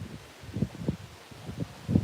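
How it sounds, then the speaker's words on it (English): Gusty wind on a dry, windy day pushes through garden trees, heard as low, uneven rumbling gusts buffeting close by, rising and falling in several pulses. "The wind is just blowing the trees and blowing everything around."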